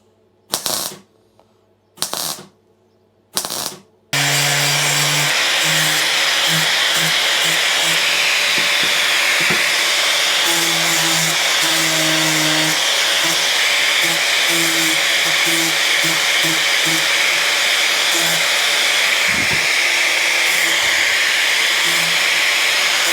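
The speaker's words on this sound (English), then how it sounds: "let's just weld it up" A BMW car mounting point is welded, starting with three short bursts separated by silence, then a long continuous crackling hiss with intermittent pops and faint tonal hums underneath, close and steady.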